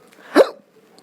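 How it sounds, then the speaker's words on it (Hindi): A single sharp hiccup from a man, close and loud, briefly breaking an otherwise quiet moment. "हिचकी आ रही हैं"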